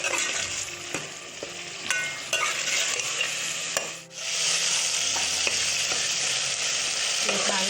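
Tomatoes frying and being mashed in a pan while cooking a qeema lobiya dish: steady loud sizzling with repeated stirring and scraping knocks, and a brief dip in the sizzle partway through.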